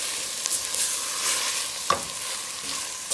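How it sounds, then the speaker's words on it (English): Rice stirred and fried with red onion in a pot, a soft steady sizzle with light scraping stirs and one sharper clink midway, no talking. "We're gonna fry up this rice a little with the onion."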